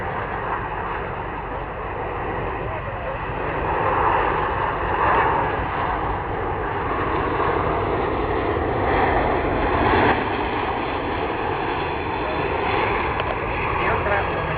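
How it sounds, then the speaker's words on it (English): A C-17 Globemaster III military jet flies slowly past on a full-flap short-field approach, a steady broad roar that swells gently in the middle, with no speech. "The aircraft is maneuvering and demonstrating a full-flap approach to a simulated short-field runway."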